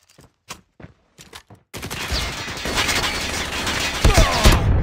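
A deployed sentry gun fires in a shooter video game during a hardpoint match, a few sharp separate shots followed by a loud continuous automatic burst that keeps going to the end.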